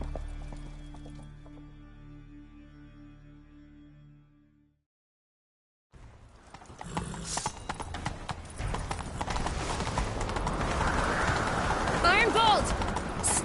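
Horse hooves galloping in The Witcher 3, a quiet stretch and silence giving way to a steady, rhythmic clip-clop that grows louder and busier over the final seven seconds.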